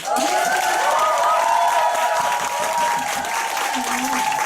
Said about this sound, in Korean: 다시 한번 박수 한번 쳐주세요.